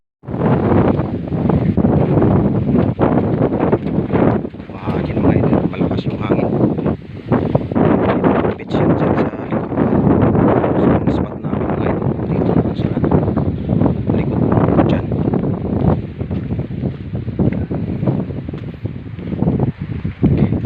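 Strong wind buffets the microphone outdoors, a constant roaring rumble with gusts rising and falling throughout.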